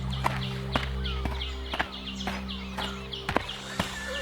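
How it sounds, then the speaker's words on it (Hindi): A horse clip-clops as a merchant rides away in an animated story, with steady hoofbeats at an even walking pace and birds chirping in the background. "व्यापारी उठकर घोड़े पर सवार होकर चला जाता है"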